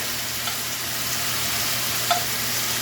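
Food for chicken tortilla soup fries in bacon fat with an even, hissing sizzle that holds steady throughout, one small pop near the end, close and moderately loud, no talking.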